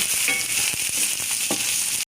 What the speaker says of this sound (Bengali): আমি এখন এটাকে সুন্দর করে একটু ভেজে নেব এভাবে